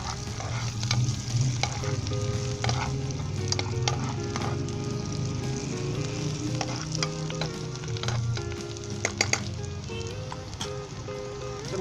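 Onions fry in oil for Pakistani onion rice, a steady close sizzle with frequent scraping and clinking of a spoon as they are stirred throughout.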